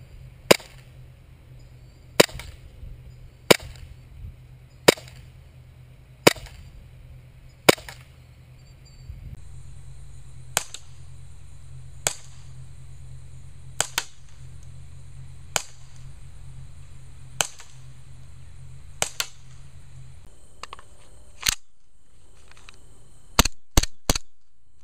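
A KWA H&K USP airsoft pistol fired in an outdoor accuracy test: sharp, snappy single shots at a steady pace of roughly one every one to two seconds, ending in a quick cluster of rapid shots.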